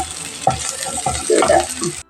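Ginger and green chilli fried in a pan for sardine pickle, a close sizzle with stirring scrapes and light utensil knocks over about two seconds, ending abruptly.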